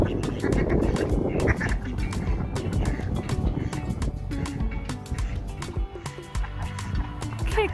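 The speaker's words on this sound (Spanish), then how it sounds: "Yo nunca había visto un pato en el mar." Wild ducks quack on the sea at a beach in Valras-Plage, France, with repeated calls scattered over a steady wash of water and wind, while people talk nearby.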